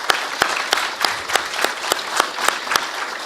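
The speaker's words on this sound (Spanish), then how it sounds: "yo quisiera que me acompañen en un aplauso a los compañeros de la superintendencia" At the opening of an international seminar, the audience claps for superintendency staff. Sharp, evenly spaced claps ring out about three times a second, like a small group clapping in unison in a hall.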